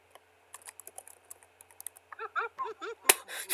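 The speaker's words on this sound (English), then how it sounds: "I like mouse clicking sounds" Rapid computer clicks while playing a game on a PC, a quick uneven run of small close taps that grows louder and denser toward the end, with a few voiced sounds mixed in.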